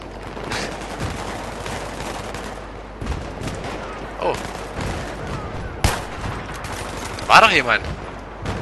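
Bursts of gunfire ring out in the Battlefield 3 video game, scattered shots and short volleys at middling distance, with a voice briefly speaking over them.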